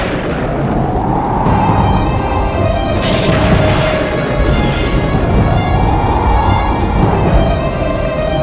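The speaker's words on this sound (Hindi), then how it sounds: "तूफान आया है, तूफान!" A storm sound effect in a narrated story: heavy rain pours continuously while deep thunder rolls and booms, loud and unbroken throughout.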